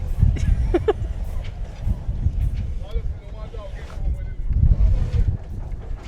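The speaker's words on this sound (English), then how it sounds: "It's the wind again. Yeah. It's probably 30 knots again." Strong wind, around 30 knots, buffets a sailing yacht and the microphone, a steady low roar with gusts, while people talk nearby.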